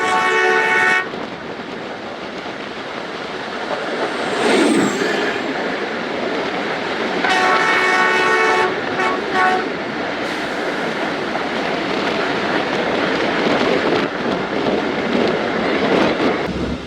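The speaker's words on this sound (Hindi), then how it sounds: "सामने से आ रही है 115 अब मूसा पाक एक्सप्रेस" The Musa Pak Express train passes from the opposite direction alongside a moving train in Pakistan, a loud sustained rumble of wheels and carriages with horn blasts near the start and middle, heard from on board.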